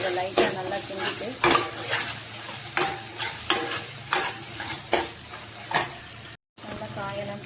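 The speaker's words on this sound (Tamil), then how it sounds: "இந்த மசிச்ச தக்காளியை போட்டு ஒரு செவக்கணும்" Mashed tomatoes fry with onions in a pan and are stirred hard. A loud sizzle sits under rhythmic scraping strokes about every half second, close by, with a brief dropout near the end.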